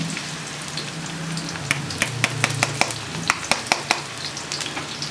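Onions sizzling in hot oil in a pan, a steady crackling fry with a run of sharp clicks and pops from stirring in the middle, no talk.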